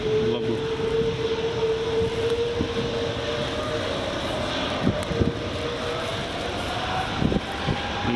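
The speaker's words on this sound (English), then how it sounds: "Sound of Rolls-Royce engines whining." Rolls-Royce aircraft engines on a jet at Edinburgh Airport runway 24 whine steadily with a rising tone over a constant roar, heard from a distance with a few faint knocks.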